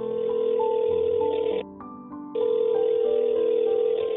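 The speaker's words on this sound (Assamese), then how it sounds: "ফোনটো বাজিল ৰিং হৈ কাটি গ'ল" A phone line rings back on a call home, a steady tonal buzz broken by a short gap before the ring resumes, clear and close with no talk.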